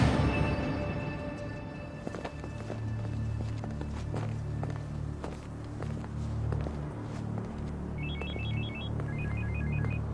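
A telephone rings in a dubbed TV drama scene, with short repeated electronic ring bursts near the end over footsteps and low room rumble.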